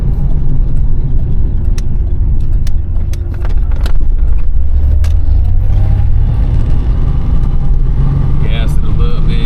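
1986 Ford Bronco II revving up to about 4,000 rpm while driving, a steady mid-pitched engine drone rising with acceleration over road rumble, close and loud, with someone talking over it.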